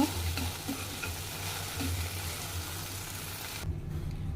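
Okra (bhindi) stir-fries in a pan with salt, a steady close sizzle and hiss with occasional stirring scrapes, cutting off abruptly near the end.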